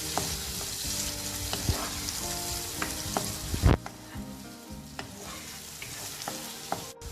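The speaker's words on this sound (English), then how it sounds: "I will add onions into it. Fry it for 2 to 3 minutes." Onions frying with garlic in a pan, a continuous close sizzle with intermittent stirring scrapes and one louder clatter midway, without any voices.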